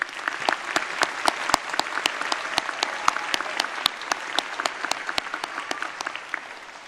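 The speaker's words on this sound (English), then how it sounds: "Please join me in thanking them with your applause as well." Steady audience applause fills a college commencement ceremony hall, a dense wash of many hands clapping with sharp individual claps standing out, sustained at even loudness throughout with no talk.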